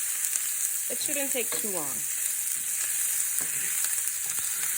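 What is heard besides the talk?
onions and garlic sizzling in a pan while being stirred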